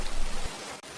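Rain falling in a steady, dense hiss that stays even and close for about a second, with no other sounds.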